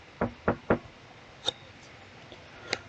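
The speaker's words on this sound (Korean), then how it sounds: "노크 소리가 좀 들어갔으나 모르겠네요" Three quick knocks rap on a door close by, followed by a few fainter taps in an otherwise quiet room.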